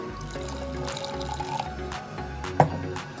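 Water poured into a glass while making iced coffee, a light liquid trickle with soft drips under a steady low background hum, ending in a small clink.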